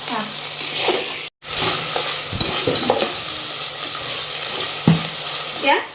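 Tomatoes and spices are stirred in a pan for potato pulao, with steady sizzling under intermittent scraping and clinks of a spoon, close by, while people talk over it.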